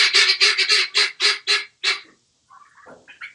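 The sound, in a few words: guinea fowl calling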